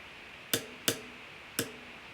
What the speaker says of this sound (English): I'm going to tap it on the glass of my desk here.